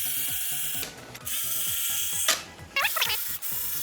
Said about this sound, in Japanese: 上のヘックスのビスを取っていきます